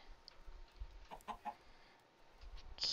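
Chickens cluck softly in the Minecraft video game, a few short clucks scattered through a quiet stretch with faint background noise.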